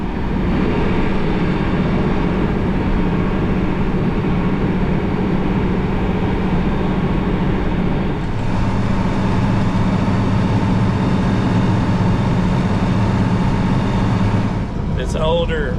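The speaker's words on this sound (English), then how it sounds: "This older tractor that I'm in is pretty loud" An older tractor engine runs loud and steady while driving, a constant low rumbling drone that fills the whole clip, shifting in tone partway through, with no clear talk over it.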